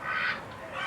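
A duck at the Alameda Park Zoo in Alamogordo, New Mexico gives a single loud, nasal quack up close, stretched into a short honking call.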